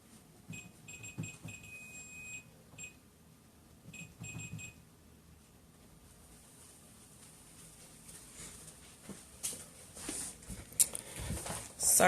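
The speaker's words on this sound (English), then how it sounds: "And there is that darn alarm again." An alarm beeps in short repeated high-pitched bursts, two clusters in the first few seconds against a quiet room, followed by rustling and handling noises as it is dealt with.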